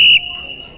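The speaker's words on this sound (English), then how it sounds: "The sound of the station master's whistle makes me jump." A station master's whistle sounds on a train platform: one loud, shrill, steady blast that breaks off abruptly after a fraction of a second, leaving a thin fading ring.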